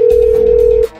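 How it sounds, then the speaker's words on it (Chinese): A single steady phone tone sounds loudly for just under a second, then cuts off, as a mobile call fails to connect. "拨通萧定波的手机，拨打几次都是提示无法接通"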